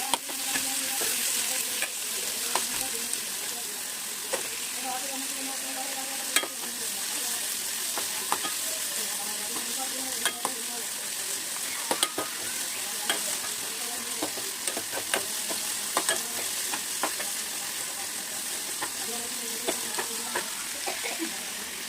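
Onion frying in hot refined oil with mustard seeds, stirred in a pan for a simple curry: a steady close sizzle with scraping stir strokes and small crackles throughout, no talk.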